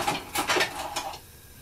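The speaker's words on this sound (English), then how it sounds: "we put the butter in a pan" Butter spooned into a pan while making ginger flapjacks: a few clinking, scraping metal-on-pan knocks in quick succession, close and fairly quiet, fading to near silence.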